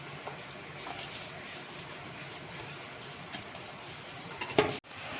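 Spinach fries in a pan with a steady, soft sizzle and occasional light stirring taps and utensil clinks, ending with a brief louder scrape.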